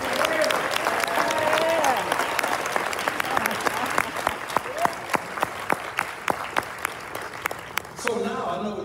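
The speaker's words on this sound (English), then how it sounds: "All right, please give them a big round of applause." Banquet audience applause at a church's 150th anniversary celebration, a full burst of clapping that thins into sparse, rhythmic individual claps before a voice begins speaking at the end.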